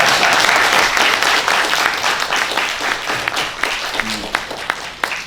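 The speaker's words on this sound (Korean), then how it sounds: "국민 배우 이순재 선생님께 감사의 박수 부탁드리겠습니다" An audience claps at the end of a lecture on film and life in a museum auditorium, dense sustained applause that slowly thins over several seconds, with a few separate claps standing out.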